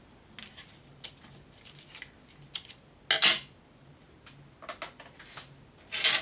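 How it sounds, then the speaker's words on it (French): Scissors snip off the excess elastic on a handmade traveler's notebook insert, giving several short, sharp cuts and clicks scattered across the moment, with two louder snips standing out, near and quiet. "On vient couper ce qui dépasse."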